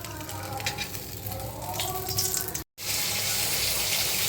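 Pomfret fish fry in hot oil with a loud, steady sizzle and crackle close by, continuous throughout apart from a brief cut.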